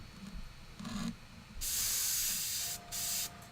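An airbrush sprays paint onto Warhammer 40k Kill Team Tempestus Scions miniatures in two close, steady hissing bursts separated by a short pause, with quieter handling noise before them.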